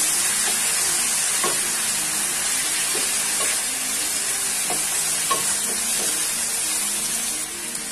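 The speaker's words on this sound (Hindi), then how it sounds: "और इसे 1 मिनट तक हम अभी और भूनेंगे।" Steady, loud sizzling of masala with garlic-ginger paste frying in a pan for Bihari chicken, a constant hiss broken by light repeated scrapes and taps of a stirring spoon.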